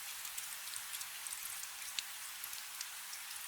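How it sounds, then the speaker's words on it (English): Rain falls outside in a soft, continuous patter of scattered drops, quiet and steady throughout, with no voices. "The rain outside hasn't quieted, and I don't reckon it will before morning."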